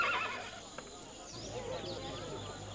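Horses whinny near the start of a hunting outing, and hooves clop faintly beneath a busy background with possible murmured voices.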